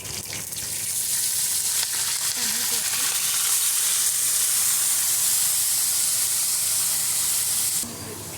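Mustard seeds, cumin, dried red chilies and curry leaves sizzle in hot oil while tempering for tomato chutney, a loud continuous frying hiss with faint crackles that cuts off sharply near the end.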